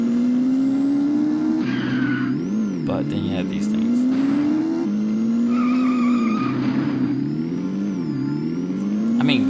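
Motorcycle engine in the PS1 game Batman & Robin, a steady droning whine that rises and dips with throttle, broken by tire skids, with someone talking over it throughout.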